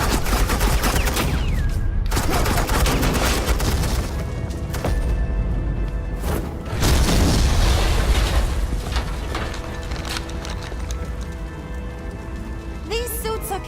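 Suppressing gunfire in the Batman: The Enemy Within video game, a dense, continuous crackle of rapid shots that stays loud for the whole stretch with no talking over it.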